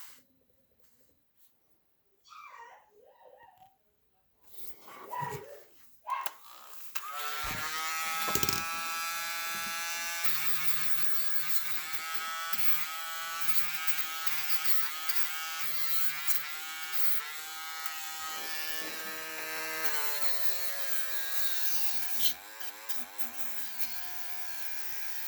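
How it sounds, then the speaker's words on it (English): A Dremel rotary tool buzzes steadily against a Hot Wheels Buick GSX die-cast car, scuffing its finish; after a few quiet handling sounds, the high whine runs continuously for about twenty seconds with slight shifts in pitch, close and loud, with no talking. "I'm going to use my Dremel and scuff it up"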